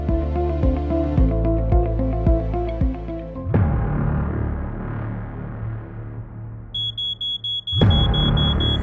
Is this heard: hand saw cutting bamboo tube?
no